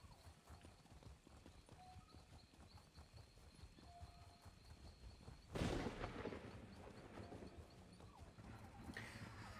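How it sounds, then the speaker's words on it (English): A sharp thunderclap from a lightning bolt in Elder Scrolls Online hits mid-clip with a gunshot-like crack and rumbling tail, over faint hoofbeats and game ambience, with a second fainter crack near the end. "Don't like lightning bolts that sound like gunshots."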